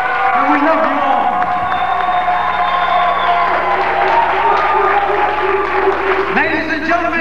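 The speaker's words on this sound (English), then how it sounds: "let's hear those round of applause once again" An audience applauds and cheers for the band at a live concert, a steady loud wash of clapping and crowd noise filling the whole stretch, with a few voices and whoops rising over it.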